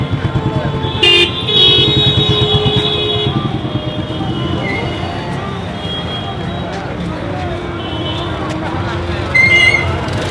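Dense, chaotic street traffic in Varanasi, India, with engines rumbling steadily and car horns tooting in short bursts, loudest near the start and the end, while voices chatter throughout.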